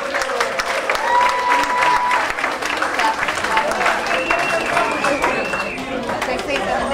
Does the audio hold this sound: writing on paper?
no